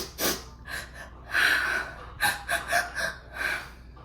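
A voice imitating sniffling and crying on a voicemail: several sharp snorting inhales and shaky gasping breaths, close and uneven, with no words.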